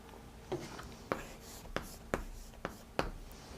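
Pen writing by hand on paper during a Korean civil-law lecture, with six short, sharp scratches and taps at steady intervals, close and quiet over a faint room hum.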